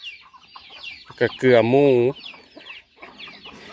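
Farmyard chickens at evening feeding give a loud, close, drawn-out squawking cluck, with softer clucks around it and someone speaking briefly over the birds.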